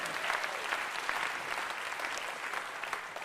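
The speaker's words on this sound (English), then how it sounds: "you can clap for Laura" An audience at a celebration of Emma's Revolution applauds for Laura, a steady dense wash of many hands clapping together that runs the whole time at a moderate, even level with no speech over it.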